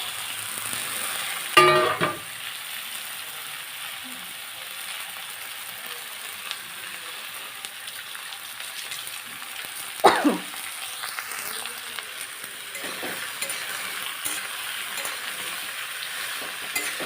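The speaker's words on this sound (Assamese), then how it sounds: "পিয়াজ আৰু জলকীয়া ভাজি আছে ভাজি হৈছে" Onions and chillies fry softly in oil in a pan with a low, steady sizzle; two sharp utensil clatters against the pan interrupt it early on and midway.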